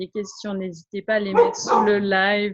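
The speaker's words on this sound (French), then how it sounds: "c'est mon chien qui aboie." A dog barks and yips a few times in the background of a French live broadcast, short sharp bursts partly masked by someone talking over it.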